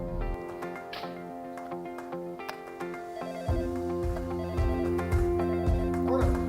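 A telephone rings repeatedly in a steady electronic pattern, fairly loud and close, continuing throughout with a low hum underneath.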